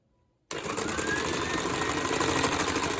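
After a brief silence, a handheld electric whisk starts up and whirs steadily at a constant, buzzing pitch, close by, whipping a beetroot mousse smooth.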